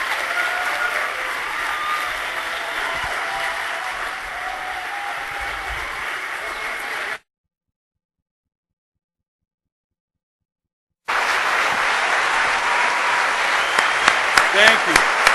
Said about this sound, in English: Hey, let's give him one more round of applause.